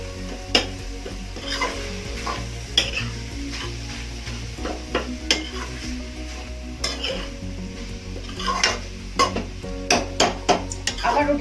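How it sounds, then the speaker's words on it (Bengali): Young green banana cooking with prawns in a pan, stirred and mashed with a ladle, giving steady soft sizzling with repeated scraping and clinking strokes close by. "আর হাতাটা দিয়ে এইভাবে একটু ডলে ডলে দিতে হবে, যেহেতু এটা কলা তো।"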